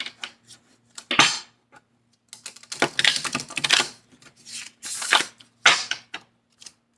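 Animal spirit cards are shuffled by hand in a series of crisp, close riffling bursts and soft taps, spaced irregularly with short quiet gaps between them.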